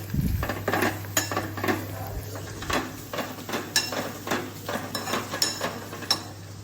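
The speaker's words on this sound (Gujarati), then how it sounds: "હવે વઘાર માટે ડુંગળી સાતળું જ છું જોડે જોડે." Close clinks and scrapes of a utensil stirring onions sautéing in a metal pan, irregular taps over a low hum, with a faint sizzle underneath.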